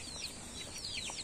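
Dekalb Brown chicks under a heat lamp give a run of thin, high chirps that overlap in quick, uneven bursts against a steady background hiss.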